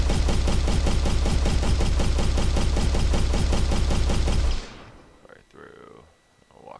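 Balls firing through portals in an Unreal Engine 4 demo give a loud, rapid stream of repeated impacts that stop abruptly, followed by a fainter rumble.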